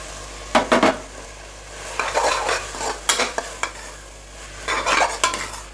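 Capsicum and curry leaves being sautéed with tomato: bursts of spatula stirring and scraping with metallic clinks against the pan recur over a soft background sizzle, close and with no voices.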